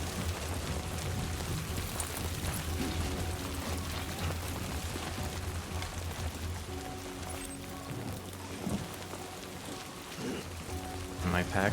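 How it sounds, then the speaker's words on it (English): Rain falls steadily in Death Stranding 2, a dense, even hiss of drops on surfaces with low rumbling and faint game sounds underneath. "It's just rain though."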